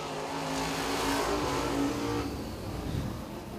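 Open-wheel modified race cars qualifying on a speedway, a steady engine roar that swells and then fades slightly as a car passes, heard from a distance without voices.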